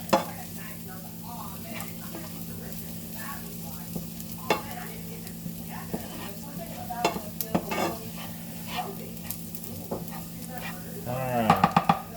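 Garlic sautéing gently in a pan over lowered heat, a low steady sizzle with occasional spoon scrapes and clinks, and a brief louder burst near the end.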